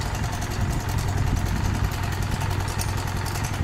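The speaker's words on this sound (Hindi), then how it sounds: "मिक्सचर एडजस्ट करेंगे और जो छनकार आ रही होती है इंजन की वो बिल्कुल साउंड हो जाएगी" A Suzuki GS-150 motorcycle engine idles steadily during carburettor mixture adjustment, a close, continuous low rumble with an even, rapid putter and no voices over it.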